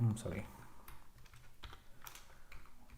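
Python code is typed on a computer keyboard in quick, uneven bursts of soft key clicks, fairly faint and close, with a brief voice at the start.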